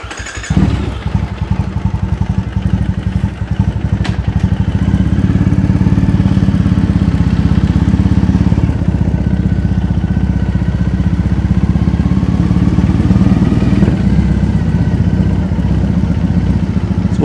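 A motorcycle rides through the streets of Ikebukuro, Tokyo, its mid-pitched engine droning loud and steady after a brief clattering start, holding a constant roar throughout with no talk over it.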